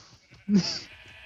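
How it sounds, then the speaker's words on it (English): A sheep in Minecraft (version 1.6 survival) gives a single short bleat. It is loud and close, stands alone and ends quickly into quiet game background. "Alright, I guess all these sheep are free now."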